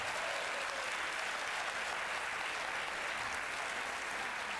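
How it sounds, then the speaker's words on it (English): Members of the class of 2021 clap for themselves at a school meeting, a quiet, even patter of applause that sounds somewhat distant and stays steady throughout. "You should give yourself a round of applause."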